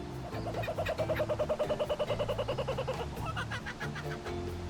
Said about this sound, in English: The macaws of the Pantanal transform the sky into a true mosaic of colors and sounds